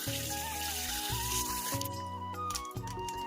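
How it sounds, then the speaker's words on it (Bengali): Cold tap water runs steadily over a goat's head in a sink as it is washed, a soft continuous splash and trickle with faint tonal ringing, quiet and close. "ঠান্ডা জলেতেও আরেকবার ধুয়ে নিই"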